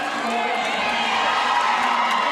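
A large crowd at a Roller Derby World Cup bout between Argentina and Ireland cheers and whoops loudly and steadily throughout, a dense, continuous roar with shouts rising above it.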